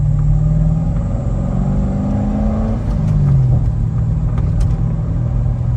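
A Chevrolet Corvette C6 V8 pulls through first gear with a deep, close rumbling exhaust, its pitch climbing before dropping at a smooth upshift and settling into a lower drone.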